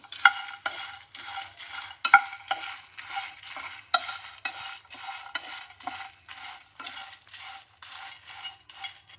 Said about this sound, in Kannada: ಬೆಳ್ಳುಳ್ಳಿ ಸೇರಿಸ್ತಾ ಇದ್ದೀನಿ. ಸ್ವಲ್ಪ ಬಿಸಿ ಮಾಡ್ಕೊಂಡ್ರೆ ಸಾಕು.